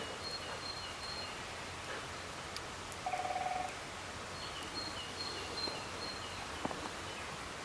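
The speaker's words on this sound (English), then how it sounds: "Woodpecker." A single brief burst of rapid woodpecker drumming in the distance, lasting under a second, over steady rain-like outdoor ambience and occasional bird chirps.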